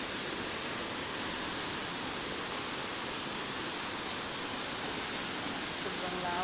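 Broad flooded river running high and yellow after intense overnight rain, a constant loud rushing wash of water heard up close, with a brief faint tonal sound near the end.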